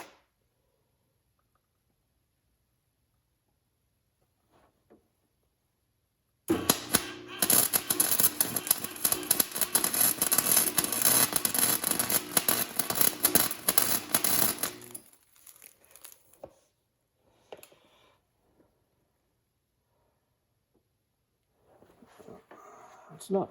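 MIG wire welder laying a bead on a 1989 Kawasaki Ninja ZX7 during repair, set to a higher heat setting: a loud, steady crackling sizzle lasting about eight seconds, then quiet with faint handling noises.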